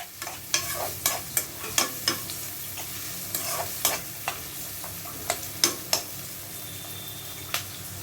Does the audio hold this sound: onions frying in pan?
yes